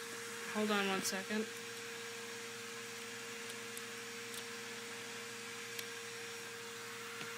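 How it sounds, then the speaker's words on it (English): A household vacuum cleaner drones steadily in the background, a constant whirring hum under brief speech from a young man near the start. "My mom's running the vacuum"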